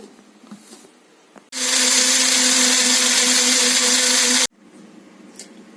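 Loud, steady whir of a kitchen mixer grinder as it blends garlic, oil and other mayonnaise ingredients into a paste, starting abruptly and running about three seconds before cutting off, with quiet room sound before and after.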